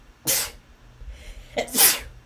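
A sneeze, then a louder second one about a second later, close and sharp, each a bright burst of breath with faint room noise between.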